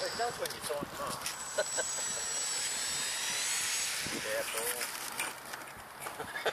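A radio-controlled model Cessna airplane taxiing on the ground after landing, its small engine giving a steady high buzzing whine at mid distance while people talk over it.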